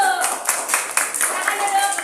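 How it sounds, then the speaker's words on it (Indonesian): A class claps for a student group after its presentation, with a ragged run of hand claps through the room and a few faint voices underneath. "Tepuk tangan untuk kelompok 1"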